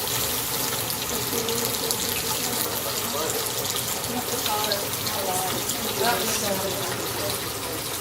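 Water runs steadily and fairly loud through a siphon hose by gravity, a continuous gushing stream with no break throughout.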